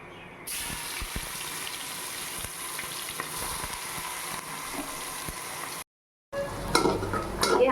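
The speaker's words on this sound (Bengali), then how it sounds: "ছোটো এলাচ ডালচিনি লবঙ্গ ফোড়ন দিলাম পেঁয়াজ কুচিয়ে রেখে দিয়েছি পেঁয়াজটা দিয়ে দিচ্ছি" Chopped onions go into a pot of oil tempered with cardamom, cinnamon and cloves, giving a steady close sizzle with frequent utensil scrapes and clinks, a brief gap, then a louder burst of frying.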